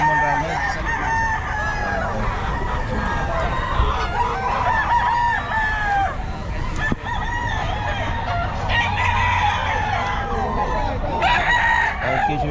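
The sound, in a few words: lemon round head gamefowl rooster crowing at pet market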